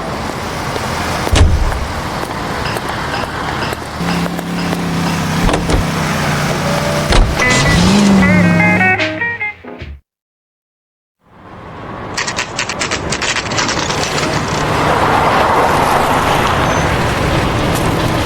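Car engine and road noise from driving in L.A. Noire, a steady rumble with shifting tones and a brief engine whine, cutting out to near silence midway before the drive resumes at a similar level.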